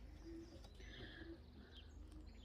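Pigeons coo softly in a few low, rounded calls, faint and somewhat distant over a steady background rumble, with light chirps higher up.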